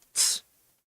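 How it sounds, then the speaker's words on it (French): A person sneezes once, a short, sharp burst of breathy hiss heard close and alone, followed by quiet. "quand quelqu'un éternue."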